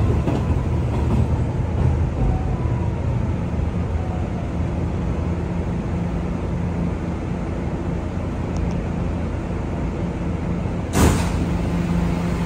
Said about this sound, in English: This is the Rockaway Boulevard bound shuttle train